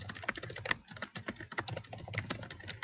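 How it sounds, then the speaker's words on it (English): Rapid, close typing on a computer keyboard, dense irregular key clicks running steadily throughout with no talk. "I'm just gonna be typing away."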